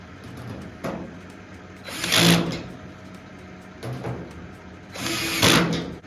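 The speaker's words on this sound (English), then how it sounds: "Now tightening with the drill." A power drill tightening a nut whirs in two short bursts, with faint clicks and mechanical rattles in the quieter stretches between.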